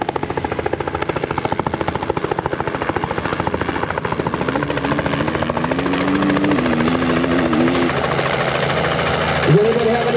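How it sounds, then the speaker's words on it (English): A helicopter arrives over a motocross track carrying GasGas race team riders, its rotor chopping loud and close in a fast steady beat, engine whine rising and shifting as it comes in. "Does anybody have any idea who's in that helicopter?"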